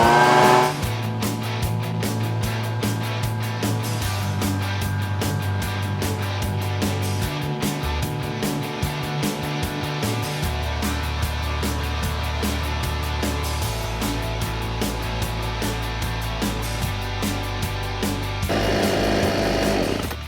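A Husqvarna 125B leaf blower's small two-stroke engine runs steadily at close range for the whole stretch, a loud buzzing drone that shifts pitch a few times as the throttle changes, with no talking.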